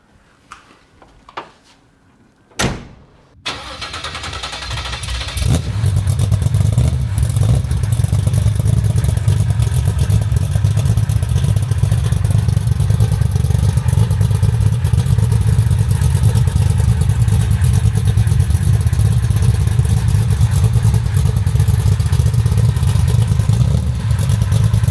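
Restored classic car engine starts with a few clunks and a catch, then settles into a loud, steady, low rumble as it drives off, continuous and close with no talking.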